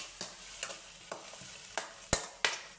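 Onions sauté in a pan with cashews and curry leaves for ven pongal, with soft sizzling and about seven distinct spatula stirring scrapes at irregular intervals, close and quiet, with no talking.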